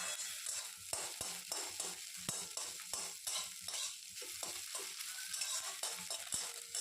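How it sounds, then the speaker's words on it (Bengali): An egg frying in a pan for a dhaba-style egg tadka while it is chopped and broken into small crumbles, with a steady sizzle under repeated sharp scraping and tapping strokes of a utensil against the pan. "ডিমটাকে ভেজে ঝুরি ঝুরি করে একদম কেটে নিচ্ছি।"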